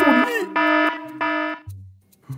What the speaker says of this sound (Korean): 이건 알람 소리.